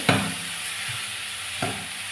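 Onions frying in a pan for a paneer roll make a close, steady sizzle, with two sharp stirring scrapes about a second and a half apart.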